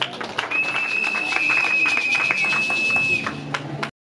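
Guests at a civil wedding ceremony applaud in a steady wash of clapping and cheering that fills the room for several seconds, with a sustained tone running beneath and a few sharp claps before the sound cuts off abruptly.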